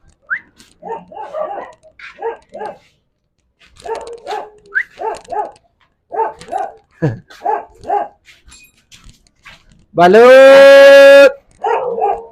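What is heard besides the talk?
dog barking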